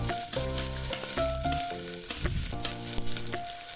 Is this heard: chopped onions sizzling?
yes